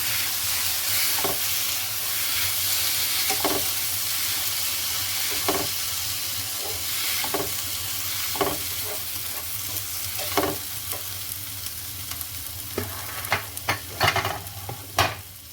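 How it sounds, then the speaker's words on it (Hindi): Chopped tomatoes sauté over fried onions in a hot pan for a bhindi masala, giving a steady sizzle and hiss broken by periodic scrapes and clinks of a stirring spoon that grow louder near the end. "टमाटर ऐड करने के बाद मैंने इनको थोड़ा सा भून लिया"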